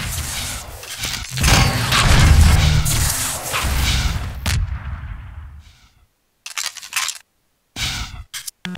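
Rocket launcher fire in Half-Life 2 Deathmatch, a loud booming blast with a roaring rumble, followed after a short silence by sharper bursts and impacts.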